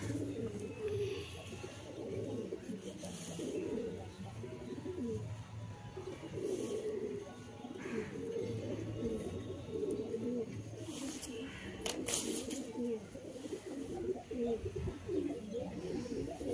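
Several pigeons coo continuously in low, rolling murmurs, close and overlapping, with occasional rustling and faint clicks.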